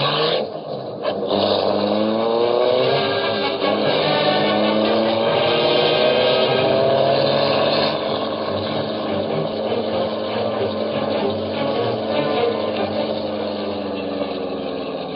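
A car pulls away from the curb in pursuit as an old-time radio drama effect, its engine loud and close, revving with rising, climbing pitch before easing slightly, in thin, band-limited vintage sound.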